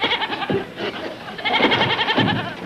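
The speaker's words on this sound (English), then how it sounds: "We'll put the goat beside Mr. Bedloe." A goat bleats in wavering cries over a busy background of voices and crowd noise.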